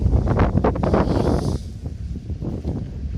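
Loud, low rumbling buffeting of wind hitting the microphone outdoors while a booster's tank is being removed, strongest at first and easing slightly, with no voices.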